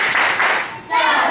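A school class performs a rhythmic clapping chant, with children's voices chanting close and loud through the brief burst.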